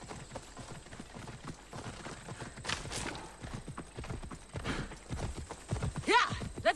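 Horse hooves clip-clopping at a gallop in the video game Assassin's Creed Odyssey, a steady rapid rhythm with occasional whinnies, heard alongside game sounds and a voice urging the horse on.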